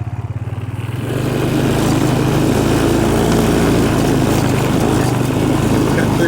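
ATV riding a trail across farm property, its engine droning close and loud, rising from a pulsing idle into a steady buzzing run after the first second and holding there.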